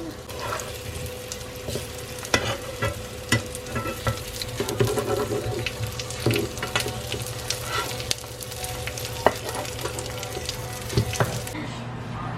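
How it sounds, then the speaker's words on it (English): Plantain and other food fry in a hot pan with a steady crackling sizzle, occasional sharp pops and stirring clatter, close and continuous, with faint voices in the background. "Do y'all hear that sizzling?"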